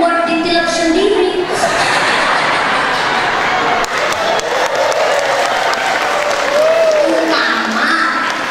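Clapping and crowd noise from an audience inside a mosque during a religious lecture, a loud mixed wash of hands and murmuring voices with some laughter and cheering, steady across the whole stretch.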